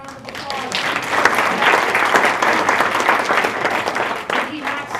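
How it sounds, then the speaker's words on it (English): Audience applause for a finalist at a small business pitch competition, a dense, sustained burst of clapping from a sizable crowd that swells and then fades, with some cheering mixed in. "Give Will another round of applause"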